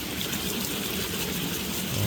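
A small waterfall on a river at Barangay Mabato, Calamba, Laguna, with deep water, rushes as a steady broadband wash of falling water, close and continuous, with no talk over it.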